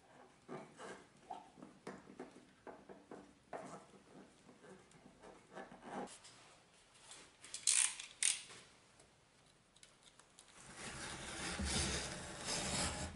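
A glued wooden strip is clamped onto a sawhorse base plate, giving a series of ratcheting clicks and knocks with some louder clattering handling noise, then a steady rushing noise toward the end.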